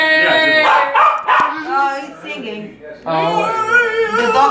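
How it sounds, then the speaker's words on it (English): A dog howls loudly and close by in long, wavering, tonal cries, with short whimpering breaks between the howls. "The dog is singing."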